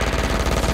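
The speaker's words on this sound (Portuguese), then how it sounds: "que tiro que eu dei agora" Rapid, closely spaced burst of gunfire from Valorant, loud and near, each shot repeating in a quick steady rhythm with no voices over it.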